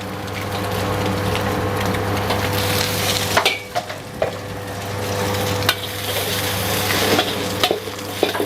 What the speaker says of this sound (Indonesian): sayuran yang keras kita tumis dulu biar wangi